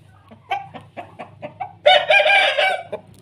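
An Aseel rooster clucks in a short series of close, clear calls, then gives a longer, louder, drawn-out crow-like call, set against a low steady background hum.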